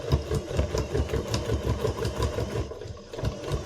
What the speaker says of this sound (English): So, well, I'm going to keep sewing.